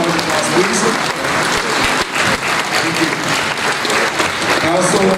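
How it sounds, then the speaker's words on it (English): Sustained applause from a large audience at a winter music festival concert night, dense and loud throughout the whole stretch with no break. "round of applause, please"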